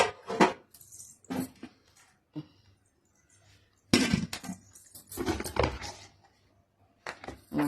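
Metal pots and vessels clatter and clink as soaked items are moved into a blue bucket, a series of close, uneven knocks and scrapes in bursts separated by short quiet gaps.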